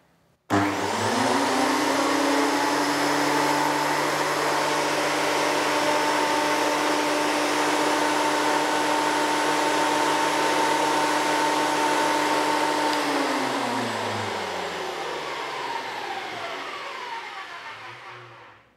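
A RYU RPP12 portable thickness planer gives a loud, steady machine whine with a strong motor hum, running continuously for several seconds, then winding down and fading as the motor slows.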